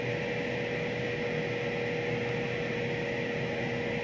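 An air fryer running in a home kitchen gives a steady, loud whirring hum with a constant airy hiss that holds unchanged throughout, with no voices.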